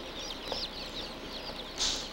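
Hens at an industrial poultry farm, a steady murmur of overlapping clucks and chatter from a dense flock, with a louder squawk near the end.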